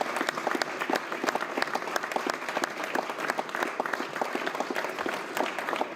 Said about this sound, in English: let's just have a round of applause for all of the candidates who ran and all the families who ran